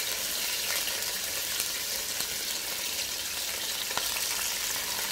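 A second batch of chicken pieces frying in hot oil on a high flame for biryani: a loud, continuous sizzle and crackle with occasional sharp pops and stirring clicks.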